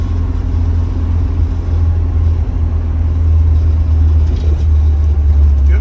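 A 1972 Volvo 144S with a red block engine drives along, its low engine rumble and road noise loud and steady from start to finish, with no talking.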